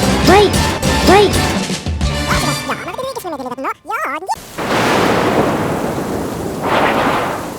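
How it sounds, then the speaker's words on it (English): A stop motion toy scene builds into a thunderstorm: voices and whooshing sound effects give way to a loud, sustained roar of wind and rain, with a rumbling swell of thunder near the end. "A storm was brewing far out at sea."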